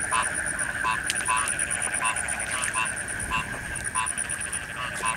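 A dense chorus of frogs croaks in rapid, overlapping pulses at the start of the rainy season, steady and close, filling the air continuously.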